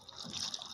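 Soaked barley porridge poured into a pot along with its soaking water, a brief, steady, wet splashing rush with no voices.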